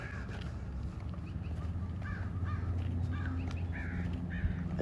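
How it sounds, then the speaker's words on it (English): A crow caws repeatedly from a tree, with harsh calls in short bursts at a steady rhythm over constant low outdoor background rumble and footsteps. "this crow up in the tree is probably syncing with me"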